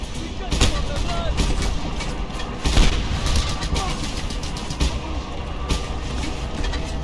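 Rapid, heavy autocannon fire in a video game, a sustained barrage of booming shots with sharp spikes and dense rumbling explosions throughout, loud and close.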